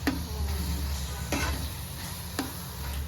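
Tamarind pickle sizzles softly in a pan while being stirred, with a low steady frying hiss and sharp spoon scrapes against the pan at roughly one-second intervals.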